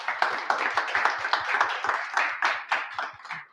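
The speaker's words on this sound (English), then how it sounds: "let's give them a round of applause" A small audience at a Global Azure Bootcamp tech event in London clapping for sponsors, the individual claps distinct and rhythmic, fairly close and moderate in volume, unaccompanied by speech.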